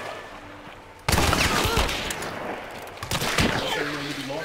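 Rapid gunfire in the video game Hunt: Showdown, two loud bursts of overlapping shots with echoing tails, close and dense.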